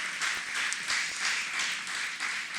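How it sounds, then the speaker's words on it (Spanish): A church congregation claps together in a steady, fast rhythm, a dense wash of palms from many people filling the room with no voices heard. "Dele una ofrenda de palmas al Señor."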